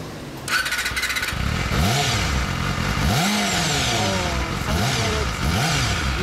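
A yellow 2007 or 2008 Yamaha four-cylinder 250cc sport motorcycle revs up close, its engine swelling and dropping in several repeated throttle blips over a steady idle.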